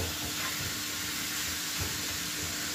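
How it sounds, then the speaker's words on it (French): Tomato and zucchini filling sautéing in a pan for a savory tart, a soft continuous hiss and sizzle close by with faint stirring bumps underneath. "Maintenant, on a juste à faire revenir tout ça ensemble."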